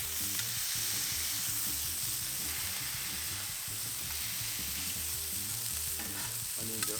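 Smashed burgers sizzle steadily on a Camp Chef griddle, a constant close frying hiss with scraping and stirring touches running throughout and no talk.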